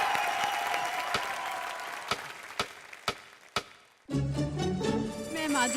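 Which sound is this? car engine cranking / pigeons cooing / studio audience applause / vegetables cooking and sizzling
studio audience applause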